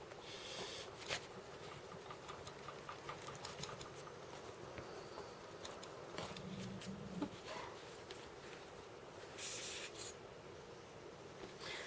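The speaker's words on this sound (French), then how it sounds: "Je suis venue gommer aussi mon cercle extérieur" An eraser rubs back and forth over paper to remove a drawn outer circle, producing quiet, close scratchy strokes in irregular bursts.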